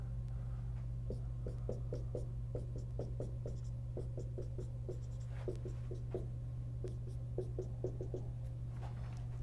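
Math being written on a board in a lecture on Taylor series, a steady run of short tapping and scratching strokes with brief pauses, close and clear over a constant low electrical hum, no talking.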